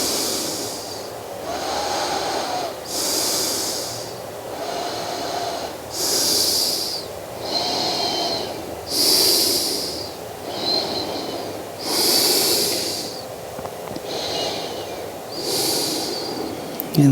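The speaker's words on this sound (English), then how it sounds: "Breathing here." Slow, steady breaths drawn in and released during a yoga half splits stretch, heard close and alone in an even repeating rhythm of about eight loud breaths with brief pauses between them.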